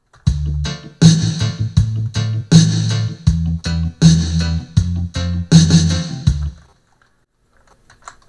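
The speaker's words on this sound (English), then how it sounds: "this is what it sounds like with the bubble." A reggae riddim built in Studio One plays with a choppy, quantized bubble organ pattern over a steady bass and drum groove, punchy repeated stabs in a regular rhythm, then it stops and near silence follows.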